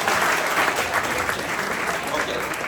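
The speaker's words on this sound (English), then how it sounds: "quick round of applause for our SALT team in the back" An indoor audience gives a quick round of applause at an event, dense and steady clapping close by that fills the short moment without a break.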